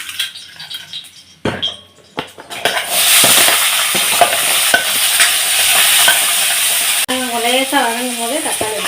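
Onion and green chilies sauteing in a pan for mutton kulambu give off a loud, steady sizzle and hiss, with stirring clatter at the start and a voice speaking over the frying near the end.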